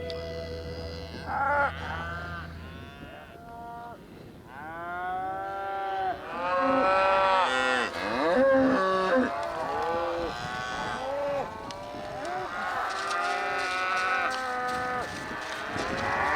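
Cattle on a farm low repeatedly, several overlapping moos rising and falling in long drawn-out calls, fairly close and loud, with no talking.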